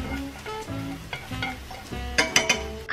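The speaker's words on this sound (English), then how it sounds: "Put the egg yolk into the pan and cook until the oil comes out." Egg yolk cooking in hot oil in a pan gives a steady close sizzle, with a few sharp scraping clicks of stirring near the end and no voices.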